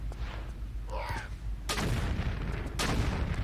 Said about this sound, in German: zwei Schüsse mit der Explosivammo und dieses Viech ist tot